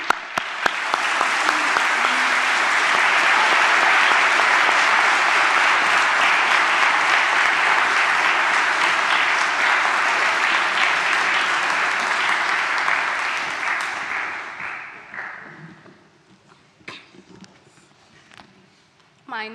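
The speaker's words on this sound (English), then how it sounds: "A round of applause for them, please." Sustained applause from a large audience at a high school graduation ceremony, loud and steady for about fourteen seconds before fading out, followed by a few scattered claps and faint rustling.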